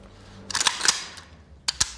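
Dry-fire trigger practice on a Kalashnikov rifle, with a few sharp metallic clicks from the trigger and sear, two clustered near the start and two more a second later, close and crisp against a quiet room.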